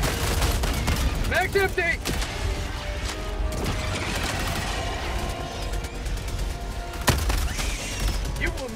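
Automated sentry turret gunfire in the video game Helldivers 2, a steady barrage of rapid shots running through the whole stretch with a few heavier impacts, loud and busy, with a brief shout over it.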